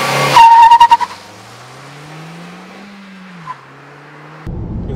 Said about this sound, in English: I'll pull up next to the camera here, and then I'll floor it